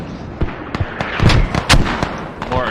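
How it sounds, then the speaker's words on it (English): Mortar shells explode in a video game, sending repeated heavy booms and sharp blasts in quick succession, some near and loud, others farther off, over busy background noise. "Mortars landing left, right, and centre"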